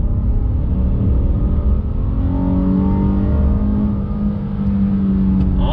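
A 2021 Honda Ridgeline HPD pickup accelerating on throttle: a loud, close engine drone whose pitch climbs steadily through the rev range, then eases near the end, with no talking.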